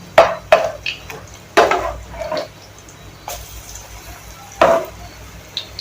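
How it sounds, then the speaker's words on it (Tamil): Green gram vadas are flipped in hot oil, giving several sharp spatula knocks and scrapes at irregular intervals over a faint background sizzle. "இப்போ வடையை நம்ம திருப்பி போட்டுக்கலாம்."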